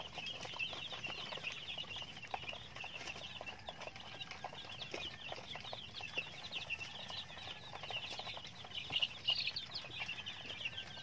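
Nine-day-old chicks peep in a constant high-pitched chorus with soft rustling and scratching, fairly faint and without talk.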